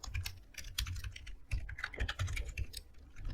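Close computer keyboard keys, including Shift and Enter, clack in a quick irregular patter of taps with no voice.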